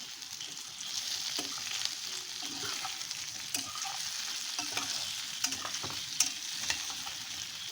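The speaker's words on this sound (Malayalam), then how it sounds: "റെഡിയാക്കി വെച്ചിരിക്കുന്ന പനീർ ഇടുക. ചെറിയ രീതിയിൽ വാട്ടിയെടുത്താൽ മതി." Paneer sautéing in a pan makes a soft, steady sizzle, with scattered clicks and scrapes from stirring close by, fairly quiet and without speech.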